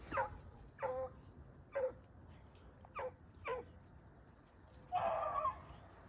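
Racing sled dogs in a box give several short, separated yelps and whines in a row, ending in a longer whimpering cry, somewhat distant with no talking.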